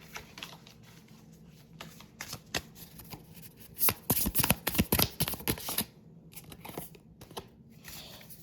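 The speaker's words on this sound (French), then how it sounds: "Donc, je vais rebattre les cartes." A deck of tarot cards being riffled and shuffled by hand, with several bursts of crisp flapping card noise, loudest in the middle of the clip, between quieter handling sounds.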